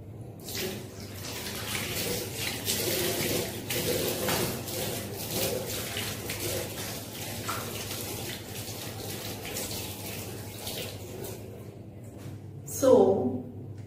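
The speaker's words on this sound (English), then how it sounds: "We will show you how we hand wash in routine life." Hands being washed under a running tap, a steady stream of water splashing with brief louder surges, continuous over the whole stretch while someone talks, ending in a short burst near the close.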